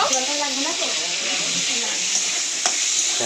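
Food sizzles and fries in a kitchen while being stirred, a steady close hiss with scraping stirring strokes throughout, and voices talk faintly underneath.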